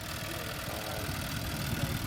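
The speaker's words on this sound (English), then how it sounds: "Tractor's working good. It's spread." A steady, rumbling tractor engine runs continuously at close range while spreading fertilizer, a low droning hum with no breaks.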